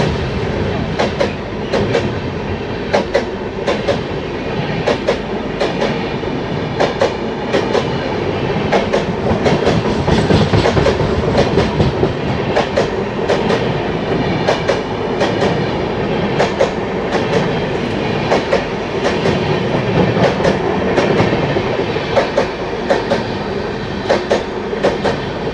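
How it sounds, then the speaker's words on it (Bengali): The Ranchi to Howrah Shatabdi Express runs along the track, heard from inside the train. A steady rumble carries a rhythmic clickety-clack of wheels over rail joints, loud and continuous for the whole stretch. "আমাদের ট্রেনও এখান থেকে ছেড়ে দিয়েছে"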